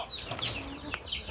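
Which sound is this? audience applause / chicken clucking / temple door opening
chicken clucking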